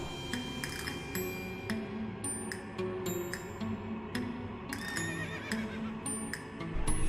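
A horse in the video game West of Loathing neighs and whinnies repeatedly over a steady clip-clop of hooves, loud and close with sharp chiming game effects scattered throughout.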